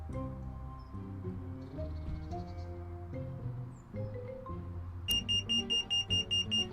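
In the video game Penelope Pendrick, sustained electronic tones play first, then a security alarm breaks in with a loud, rapid series of high pulsing beeps repeating evenly until the end.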